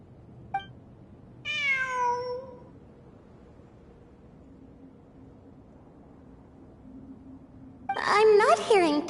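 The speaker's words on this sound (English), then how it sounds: "It really is a cat." A cat meows in Genshin Impact, one drawn-out, falling meow early on and a louder, wavering cry near the end, separated by quiet game ambience with faint background tones.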